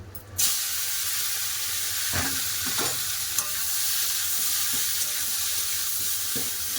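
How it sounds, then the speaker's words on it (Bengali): Teasel gourd frying in hot mustard oil, a loud continuous sizzle close by, broken by occasional stirring scrapes and light utensil taps. "কাঁকরোল ভাজা হয়ে এসছে"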